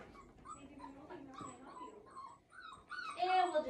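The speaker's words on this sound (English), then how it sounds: "Got a backpack full of puppies." Puppies carried in a backpack on vaccine day give soft, high whimpers and yips in short bursts, close and fairly quiet, growing louder toward the end with faint voices mixed in.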